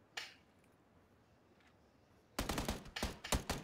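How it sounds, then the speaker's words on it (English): Bursts of automatic gunfire in a shooter video game, a single sharp shot early, then a dense rattle of rapid loud shots after a quiet stretch, with no talk. "I couldn't see that guy either, Scoop, until you started shooting at him."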